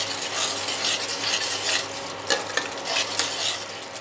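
Chicken gravy with yogurt stirred and cooked in a pan for chicken do pyaza, a steady close sizzle with a spoon scraping and clinking against the pan, no talking.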